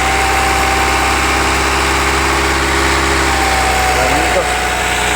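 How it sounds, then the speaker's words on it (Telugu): A 2017 Honda WR-V diesel engine idles with a steady, loud, smooth hum and low vibration, unchanging from start to finish. "ఇంజన్ సౌండ్ కూడా చూడండి ఎంత స్మూత్గా ఉంది, ఎంత నీట్గా వస్తుంది ఇంజన్ సౌండ్."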